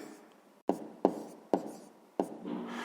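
A pen writes an answer on paper in four short, crisp scratching strokes spaced at a steady rhythm, close and quiet, with faint rustling between them.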